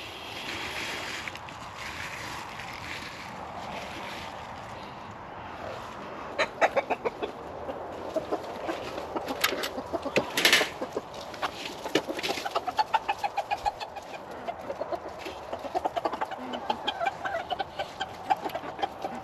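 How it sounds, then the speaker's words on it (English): Chickens clucking and squawking as they are fed beet greens, with sharp, busy calls rising over a steady outdoor background hiss; no talk. "Let's give this to the chickens."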